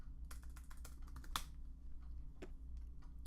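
Typing on a Mac computer keyboard, a quick run of light key clicks with one louder tap in the middle, close and quiet.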